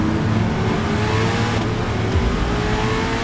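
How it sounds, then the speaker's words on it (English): A Corvette ZR1X accelerates hard on the Nurburgring, a loud, dense engine roar with rising tones and a brief gear shift midway, continuous and close. "The way this car accelerates is like being shot out of a cannon."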